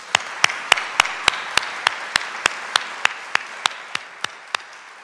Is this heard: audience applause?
yes